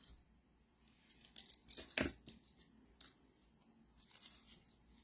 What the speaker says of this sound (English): And we just fold it, cut the piece that we want.